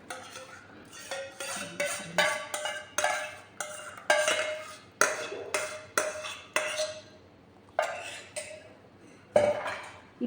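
Semolina freshly ground in a mixer is tipped into a kitchen bowl, with a rapid series of close scraping taps and clinks of a spoon against the jar and bowl rim, each followed by a soft pour.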